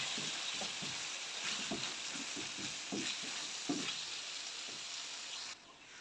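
Finely chopped ginger sizzles in hot oil in a pan while saag chicken is cooked, a close crackling fry with repeated stirring scrapes that drops off near the end.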